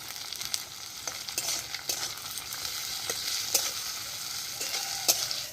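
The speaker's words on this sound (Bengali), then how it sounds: "পেঁয়াজটা ভাজা হয়ে গেছে, আমি আদা বাটাটা আর টমেটোটা দিয়ে দিলাম।" Ginger paste and chopped tomato fry with onions in a hot pan for an egg curry, giving a steady sizzle broken by a few sharp scrapes and clicks of stirring, close up and without talk.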